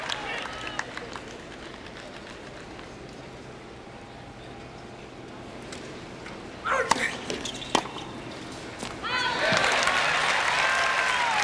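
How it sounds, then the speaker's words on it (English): Tennis crowd at the 1991 US Open urging on Jimmy Connors against Patrick McEnroe, low murmur with sharp ball strikes, then a swelling burst of cheering and applause at the end, with commentary voices in places. "Crowd exhorting Connors."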